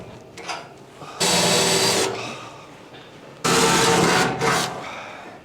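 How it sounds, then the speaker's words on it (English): Power drill boring upward into a ceiling while a Maxxfan roof vent is being fitted, two loud sustained bursts of whirring separated by a pause, with shorter light taps and handling noise in between, close to the microphone. "That is my least favourite job, drilling up"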